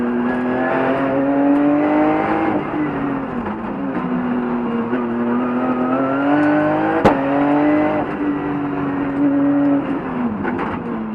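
A Porsche race car climbs a hill climb course, its engine revving hard and steadily through rising and falling pitches, with a brief sharp crack midway, loud and close throughout.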